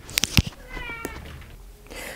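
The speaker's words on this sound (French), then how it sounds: "Bon, il va miauler." A house cat meows a few short times close by, with brief clicks at the start and a quiet room behind it, and no talk over it.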